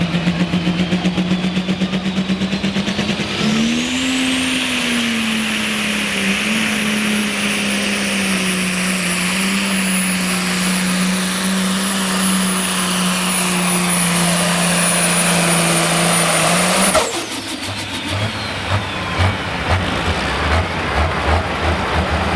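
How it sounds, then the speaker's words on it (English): The Redline Harvester pulling tractor's engine revs up to a loud, sustained high-pitched roar with a rising turbo whine, holds steady for over ten seconds, then cuts off abruptly and settles into a rough, lower idle. "Building up the RPM once again."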